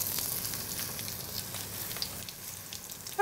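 Pabda fish for shorshe pabda sizzling in hot oil in a pan over a raised flame, a steady broadband crackle and hiss with small pops, close and fairly loud, without speech.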